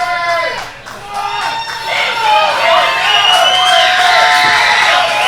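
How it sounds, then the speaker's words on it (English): A crowd at a live pro wrestling show cheers for wrestler Ray Rosas, loud shouts, whoops and high children's voices rising and swelling together close by, with no break in the noise. "And this crowd is definitely behind Ray Rosas here tonight."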